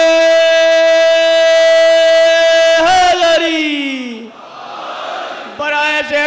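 A crowd at a Muharram religious gathering shouts religious slogans: one loud, sustained chanted call slides downward, then a broad roar of many voices answers before the call starts again.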